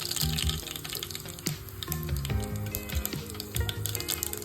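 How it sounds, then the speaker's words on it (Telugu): Half a teaspoon of mustard seeds dropped into hot oil in a pan, crackling and sizzling continuously with scattered sharp pops, close and moderately quiet. "1/2 టీ స్పూన్ ఆవాలు వేసుకోవాలి."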